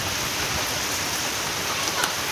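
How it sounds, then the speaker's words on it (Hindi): Heavy rain falling as a dense, constant hiss of drops striking surfaces, loud and unbroken for the whole stretch with no voices. "प्रबल वर्षा"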